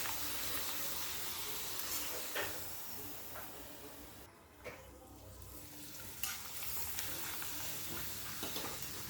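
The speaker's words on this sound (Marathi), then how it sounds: "आता या तळून घ्यायच्या आहेत सुरुवातीला दोन पापड हे तळून घ्यायचे आहेत" Papad frying in hot oil in a home kitchen, a steady broadband sizzle and hiss throughout, close and moderately loud, with a brief dip in the middle and a few sharper crackles and bursts.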